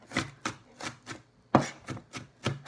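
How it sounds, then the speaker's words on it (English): A knife chops through an organic onion on a cutting board for vegan pasta sauce, giving seven crisp, evenly spaced thuds at a steady rhythm, close and clear with no talking. "I'm chopping my beautiful onion."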